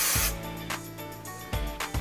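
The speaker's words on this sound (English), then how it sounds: "Then I'm just gonna spray." Short hissing bursts of hairspray, three or four quick sprays with brief pauses between them, close by.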